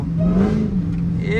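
Dodge Demon Charger engine revving in a snowstorm, with a high whine riding over the engine's steady low drone, close and loud, while a person talks over it.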